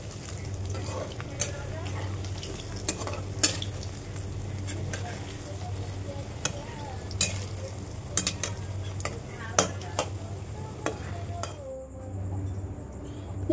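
Cabbage pakoras fry in hot oil with a continuous bubbling sizzle, punctuated by scattered clinks of utensils and some background voice.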